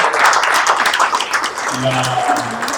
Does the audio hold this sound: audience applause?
yes